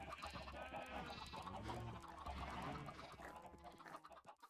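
Minecraft chickens cluck steadily throughout, several birds overlapping in a busy, continuous chorus of short, choppy calls.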